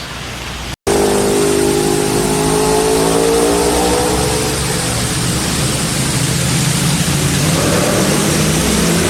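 A car driving on a winding road in a small-town area of western North Carolina: after a brief dropout, a loud, close engine hum holds steady, its pitch rising gradually and then settling as the car cruises.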